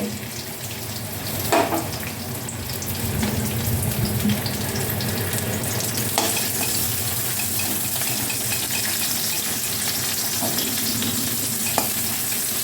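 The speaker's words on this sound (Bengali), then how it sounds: "এবার আমি পেঁয়াজ পেস্তাটা ভালো করে ভেজে নেব" Oil sizzles and crackles steadily as onion paste fries in a pan, with occasional scrapes and clinks of a stirring utensil, no talking.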